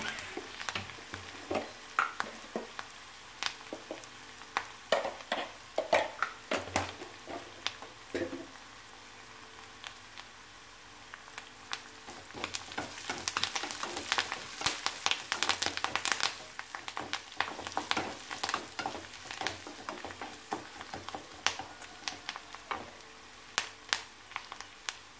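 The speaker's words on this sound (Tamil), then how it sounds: "நல்லா கொஞ்சம் சிவக்க வறுக்கட்டும்." Spices and turmeric powder frying in a pan for a hotel-style sambar, with a steady close sizzle and frequent scraping, clinking stirring strokes throughout; no one speaks.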